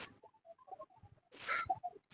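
Baby Lakkha pigeon making soft, brief cheeping and peeping calls, close and quiet, a string of small chirps with a louder hissy burst near the middle.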